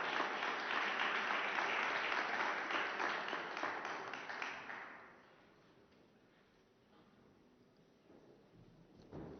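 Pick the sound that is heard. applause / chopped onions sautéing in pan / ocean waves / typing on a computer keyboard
applause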